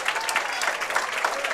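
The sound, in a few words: crowd applause at bowling state finals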